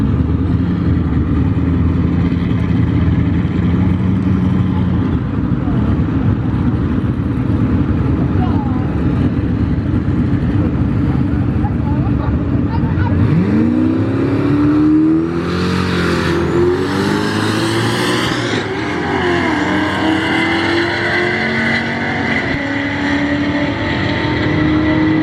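A Pontiac G8 GT with longtube headers, intake, gears and tune roars down a drag strip, its engine note loud and sustained as it accelerates, with a rising pass near the end and voices faintly underneath.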